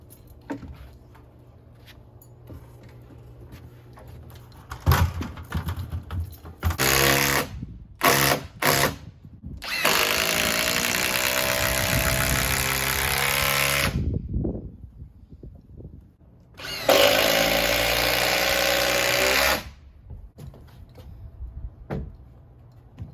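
A cordless power drill drives screws into a wooden gazebo post, giving several short bursts and then two long whirring runs that rise in pitch as each screw bites, with quiet pauses between.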